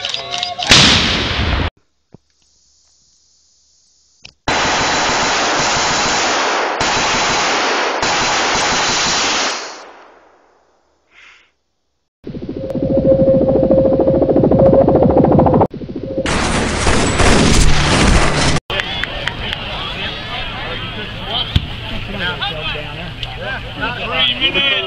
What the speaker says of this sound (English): On my call, howitzer section, make ready